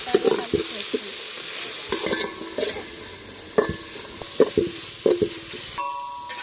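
Ingredients with ginger garlic paste fry in a pan, giving a continuous sizzle broken by several sharp scraping knocks from a stirring spoon, close up and without talk.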